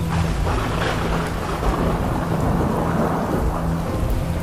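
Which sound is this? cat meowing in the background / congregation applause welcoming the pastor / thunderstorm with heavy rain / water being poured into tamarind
thunderstorm with heavy rain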